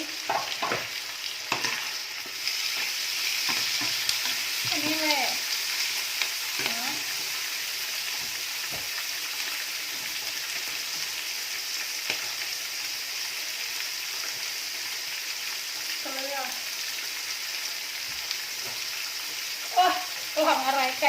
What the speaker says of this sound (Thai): ใส่กระเทียมใส่หอมลงไปผัดแล้วนะคะ